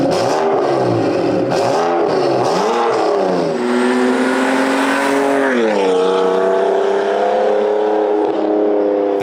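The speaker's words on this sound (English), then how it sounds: "AWE Touring exhaust with the performance mid-pipe" A BMW 335i with an AWE Touring exhaust and performance mid-pipe revs hard several times with loud exhaust, then holds a steady rising drone, close and continuous throughout.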